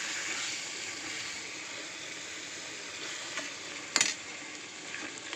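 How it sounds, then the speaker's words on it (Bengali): Taro leaves (kochu shak) with sugar fry in oil with a constant close hiss and crackle, a brief louder scrape near the end, and no talking. "কচুর শাকটা আমি এখনও ভাজবো।"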